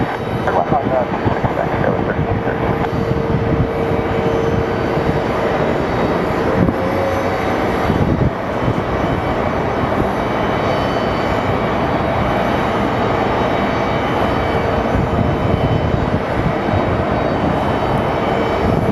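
Airliner, a SkyWest regional jet arriving from Reno, on approach to Phoenix Sky Harbor Airport, its engines giving a steady, loud broadband roar that holds throughout, with brief faint voices in the background.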